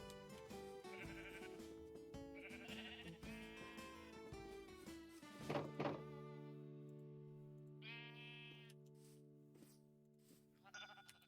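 Sheep in a Minecraft superflat survival world give a few synthetic, tonal bleats, close and clear, over a steady sustained musical drone.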